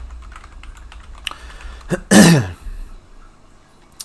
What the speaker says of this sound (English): cough again, because asthma is amazing